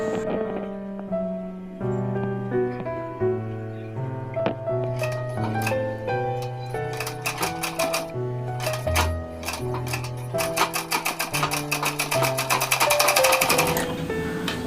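A small sewing machine runs in bursts, stitching through double-layer fabric with a rapid mechanical clatter that speeds up and grows louder, heard close over a background of steady music.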